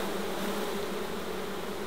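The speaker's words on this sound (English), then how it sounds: "Busy, busy bees, as the saying would go." Bees swarm during a hive cut-out, removing old brood comb from a bush bee box, making a dense, continuous buzz that stays steady and close throughout, with no voices.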